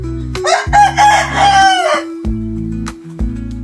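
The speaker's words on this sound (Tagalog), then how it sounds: "Ayan yung mga may manok pa dito, tapos may kulungan ng manok." A rooster crows loudly and close, a long strained call, amid softer clucking from chickens nearby.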